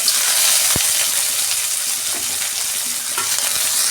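Chopped onion goes into hot oil with whole cumin seeds and frying starts at once, a steady close sizzle with occasional stirring scrapes throughout.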